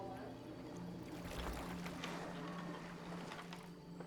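Steady sloshing of water against a rowboat in the video game Detroit: Become Human, with rhythmic splashes from oars, a continuous wet churning at moderate loudness with no talking.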